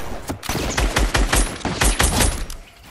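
Rapid bursts of gunfire in a Fortnite match, loud and close, shots overlapping into a dense crackling volley across the whole moment with a brief lull near the end.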